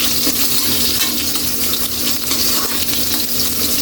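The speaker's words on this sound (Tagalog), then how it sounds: "Haluin lang natin." Onions fry in a pan for pork and chicken adobo while being stirred, giving a steady close sizzle with light scraping and no voices.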